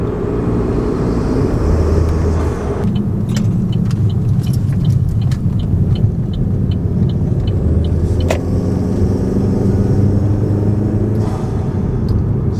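A 2014 Chevy Cruze RS engine fitted with a cold air intake gives off a loud, steady low rumble that shifts in tone partway through. It sounds close, as if recorded from inside the car, and no one speaks.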